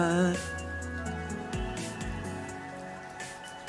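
Rain ambience from a Diablo video game soundtrack: a steady hiss of falling rain blends with sustained tonal music chords and low swells, continuous and moderately loud throughout.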